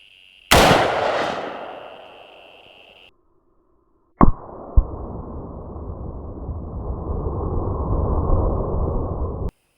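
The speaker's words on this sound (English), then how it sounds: "I have the 223 upper back on. Let's take a shot at this watermelon and then compare it to that of the 450." A .223 AR-platform rifle upper fires a single shot at a watermelon outdoors: one loud, sharp crack with a ringing decay. After a brief silence, another sharp hit leads into a sustained rushing noise.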